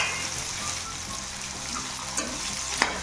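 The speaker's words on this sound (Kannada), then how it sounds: "ಈರುಳ್ಳಿ ಸ್ವಲ್ಪ ಬ್ರೌನ್ ಬರೋ ಗಂಟ ಕ್ಲೀನಾಗಿ ತಿರುಗಿಸಿ. ನೀಟಾಗಿ ಫ್ರೈ ಆಗಬೇಕು ಈರುಳ್ಳಿ." Onions fry with curry leaves over low flame in a pan for jeera rice, a steady soft sizzle with faint scraping as they are stirred, close and alone without talk.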